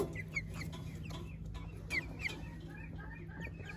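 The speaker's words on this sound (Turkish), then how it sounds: "Süseks horozumuzdan başlayalım." A Sussex rooster and a mixed flock of hens cluck and murmur in a farmyard coop, a scattering of short, close clucks and chirrups over a steady low hum.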